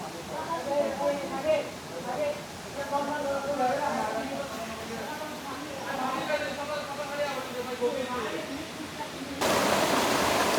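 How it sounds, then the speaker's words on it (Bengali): A forest stream in remote Lama, Bandarban, spills down into a waterfall, making a steady broadband rush under continuous talking that swells into a louder roar near the end. "কলকল ধ্বনিতে ঝিরিপথ থেকে পানিগুলো নেমে যাচ্ছে নিচে এখানে সৃষ্টি করেছে একটি ঝর্ণার"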